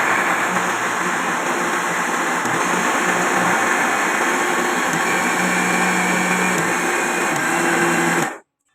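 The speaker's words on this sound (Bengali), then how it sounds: "চলো এবার দেখি এটা ব্লেন্ড করি" A blender whirs steadily for about eight seconds while blending a mango smoothie. The motor drone stays loud and even throughout, then cuts off abruptly at the end.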